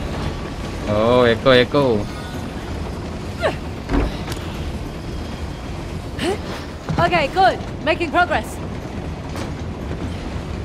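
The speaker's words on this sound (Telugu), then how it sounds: "ట్రైన్ అయితే చాలా ఓల్డ్ మోడల్" An old-model train rolls along in the Uncharted level End of the Line, its steady mechanical rumble and creaks running beneath a man's excited chatter throughout.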